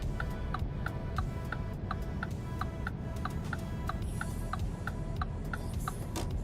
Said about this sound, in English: So the turn indicator,